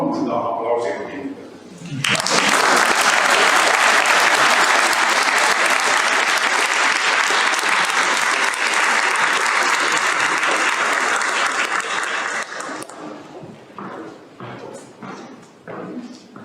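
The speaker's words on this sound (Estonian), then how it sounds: "Ja kui te nõus olete, palun seda aplausiga kinnitada." An audience at a municipal anniversary concert bursts into applause after a short spoken passage, loud sustained clapping for about ten seconds before it fades out into lighter scattered claps and low voices.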